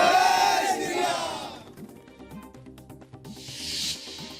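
A crowd celebrates loudly with jubilant shouting and cheering at the start, then scattered shouts and noise, and a final burst of cheering near the end.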